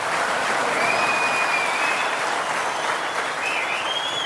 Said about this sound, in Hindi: जनता का ट्रस्ट भी है, तालियों से साफ साफ पता चल रहा है।